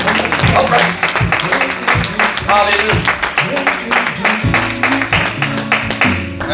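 A church congregation clapping hands during a Sunday service, a steady rhythmic beat of claps running throughout, mixed with music and voices talking and calling out over it.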